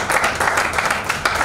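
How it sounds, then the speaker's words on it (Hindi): An audience applauds at a Kangen Water distributor meeting, welcoming new members with a quick burst of brisk, fairly close hand claps in an uneven rhythm. "इनका जोरदार तालियों से स्वागत करें"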